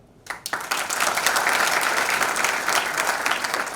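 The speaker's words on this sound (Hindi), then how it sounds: "ताली बजती है इसको" Applause at a seminar lecture, starting with a few scattered claps and quickly swelling into sustained, full clapping from a large audience.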